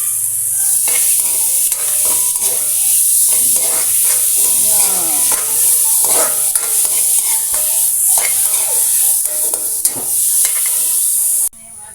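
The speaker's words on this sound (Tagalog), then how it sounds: "Tapos ngayon, magigisa tayo ng gulay." Vegetables being sautéed in a pan with chicken and Spam make a loud, close hiss of frying, broken by repeated scraping and stirring strokes, until the sizzle cuts off abruptly near the end.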